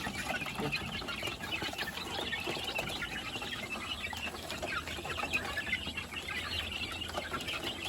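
Farmyard chickens clucking steadily throughout, a dense, continuous layer of hen calls near and far with no talk over it.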